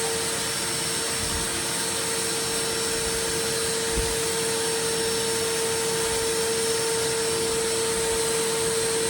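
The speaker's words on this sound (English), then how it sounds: "So this is the DeWalt 9-gallon shop vac." A DeWalt 9-gallon shop vac runs steadily throughout, a loud, constant motor whine and rushing airflow with a sharp tonal hum, close by and with no talk over it.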